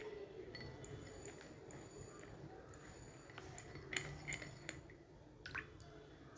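Baking soda being stirred into water in a glass: quiet, scattered clinks of a spoon against glass with soft liquid swishing, close and faint, with no talking.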